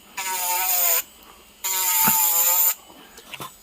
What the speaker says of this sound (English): that is the iGel Beauty drill